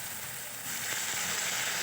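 Water goes into a pan of fried-down tomatoes for a Bengali raw jackfruit kofta curry, giving a sharp, steady sizzle and hiss that swells partway through and carries on alone.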